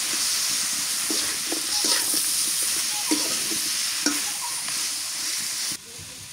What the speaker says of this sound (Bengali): একটুখানি পানি দিয়ে মুরগি মাংসটা ভালো করে কষাই দিই।